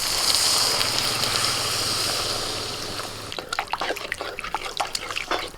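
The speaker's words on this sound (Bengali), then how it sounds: "কষিয়ে নিয়ে এবার আমি জলটা দিয়ে দিচ্ছি" Water poured into a pan of frying masala for a Bengali koi fish curry, a steady hissing sizzle for about three seconds that gives way to bubbling, spitting crackles, close and fairly loud.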